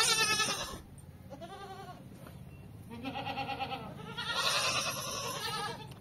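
Goats bleat in repeated wavering calls at close range, several overlapping cries rising and falling across the clip with no talk.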